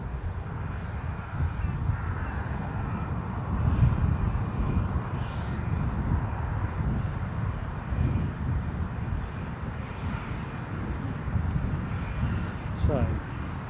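A Ryanair jet coming in to land at Newcastle airport after a go-around gives off a steady, moderately distant engine roar that swells slightly and lingers, with crows cawing faintly and a voice talking over it.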